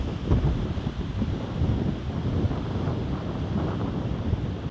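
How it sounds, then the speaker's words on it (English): Steady wind gusting hard across an outdoor microphone during a wildfire, a continuous low rumbling roar with no voices. "It's getting windy."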